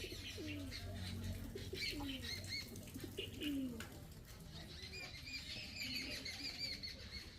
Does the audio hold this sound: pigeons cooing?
yes